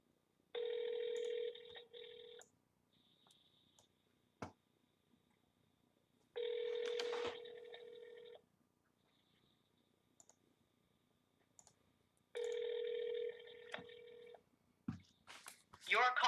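An auto-dialer places calls one after another, sounding three long, even ringback tones spaced several seconds apart, with faint clicks in the quiet gaps between them and no voices.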